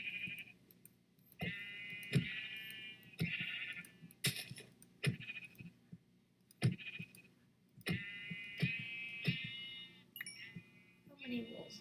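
Sheep bleating in the video game Minecraft, a series of short quavering bleats repeating every second or so, with sharp clicks from hits and block sounds, plus faint talk.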